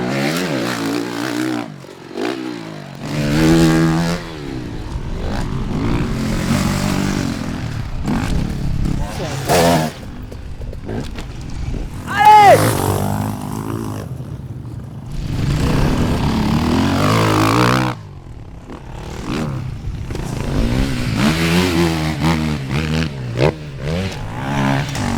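An enduro motorcycle revs and roars on a riding and jumping course, its engine note rising and falling with bursts of acceleration, while people talk over it.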